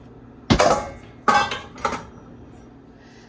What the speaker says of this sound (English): No, yeah, I am going to get a bowl.